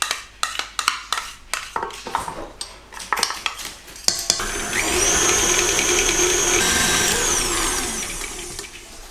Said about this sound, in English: Whisk the butter and the sugar about 2-3 minutes